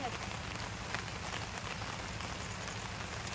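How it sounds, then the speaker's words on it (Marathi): Steady rain pattering on a surface, a dense continuous hiss with scattered drops, no voices. "पुन्हा पण पाऊस नाही उघडत होता"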